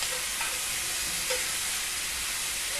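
Stir fry vegetables for chow mein, with cauliflower among them, sizzle steadily in a hot pan, a continuous hissing fry with faint scrapes of stirring and no talking.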